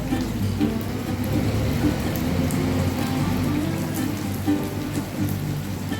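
Capsicum and corn malpua batter frying in hot oil, a steady broadband sizzle that holds evenly throughout at moderate loudness, with no talking.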